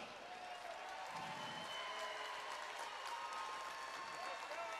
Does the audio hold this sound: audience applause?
yes